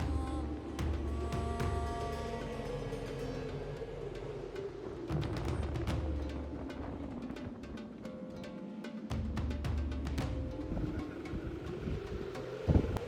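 Strong desert wind during a sandstorm gusting and roaring across the microphone among dunes, rising and falling over a long stretch, with scattered buffeting bursts and no talking.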